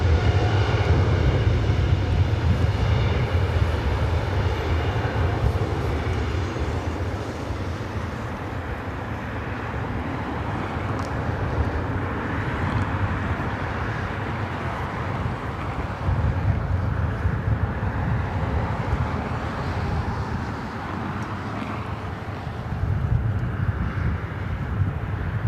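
An airliner bound for Warsaw rolls down runway 24 right at LAX for takeoff, a loud, continuous low engine roar mixed with wind buffeting, swelling and easing over about twenty-five seconds.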